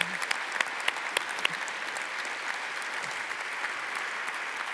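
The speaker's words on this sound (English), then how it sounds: "let's give Varshini a warm round of applause" Steady audience applause at a high-level conference panel, a continuous dense clapping that holds evenly throughout, moderately loud with no talking over it.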